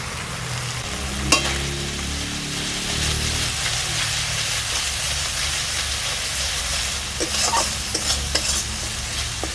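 Spices with chili powder fry in hot oil for a fish curry with potato and eggplant, a loud, steady sizzle close by, broken by scraping stirs and a few sharp clicks of the spoon on the pan.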